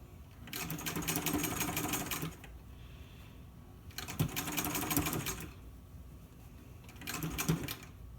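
Sewing machine stitching a quarter-inch fabric seam in three runs of rapid, steady mechanical whirring and clatter separated by quiet pauses, close by and with no speech.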